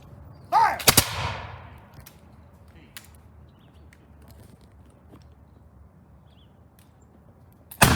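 A ragged musket volley cracks out at a Battle of Alamance reenactment, a sharp burst of near-simultaneous shots followed by a faint outdoor lull, a few scattered pops, and another crack at the very end.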